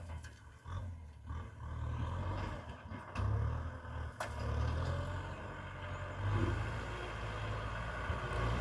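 A tractor engine idles and revs with a low, steady rumble, rising and falling in bursts while working soil in a field, fairly close with no talking.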